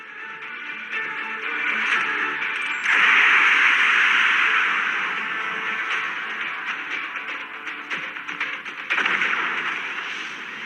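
Missile launch and explosions in a Hindi spy thriller film scene: a loud, sustained broadband roar and rumble with a swelling blast near the start and another surge toward the end, no voices over it.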